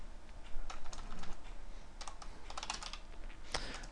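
Rapid typing on a computer keyboard, close and clear, in bursts of keystrokes with brief pauses and no talking.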